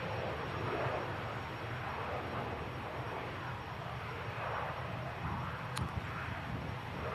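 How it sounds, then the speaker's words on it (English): A Ryanair UK airliner arriving from Oslo at Manchester Airport gives a faint, distant, steady roar that holds evenly throughout. "This Ryanair UK is coming from Oslo"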